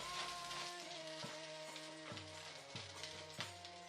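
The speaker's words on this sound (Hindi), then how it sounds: "पहले हम वॉक को हीट करके ऑयल डाल देंगे। फिर उसमें कटी हुई ग्रीन चिलीज डाल देंगे।" Chopped green chilies frying in hot oil in a heated wok, a continuous crackling sizzle with intermittent stirring scrapes, close and faint, no speech.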